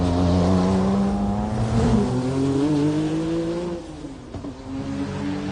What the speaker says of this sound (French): La voici, cette Courage pilotée désormais par Eric Hellary.